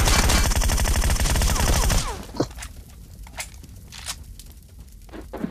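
Rapid automatic gunfire rattles loudly for about two seconds in Battlegrounds Mobile India, followed by scattered quieter shots and footstep-like clicks.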